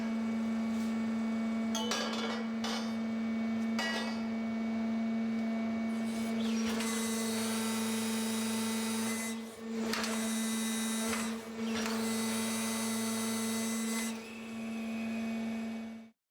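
A model 130 core exploration drilling rig runs continuously, giving a steady mechanical hum with bursts of high-pitched whining that start and stop in several stretches.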